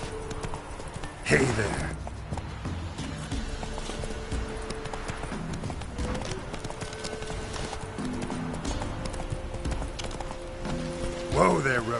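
Roach, Geralt's horse in The Witcher 3 game, gallops with steady hoofbeats running beneath a busy game soundscape, with a brief loud burst near the start and end and a voice speaking briefly.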